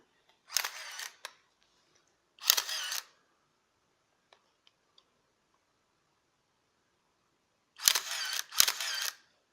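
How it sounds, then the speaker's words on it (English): Four bursts of an Olympus OM-1 film camera shutter firing with a whirring motor wind, in two pairs separated by quiet, with faint small clicks between. "it's shooting and advancing on its own"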